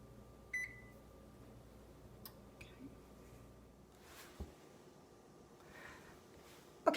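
A kitchen oven's control panel being set to preheat to 350 degrees, giving a short electronic beep and a few faint button clicks over a quiet room hum.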